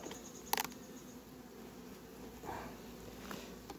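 Honeybees carrying acacia pollen return to the hive entrance. A faint, close buzzing drones throughout, with a few brief louder passes as bees fly near.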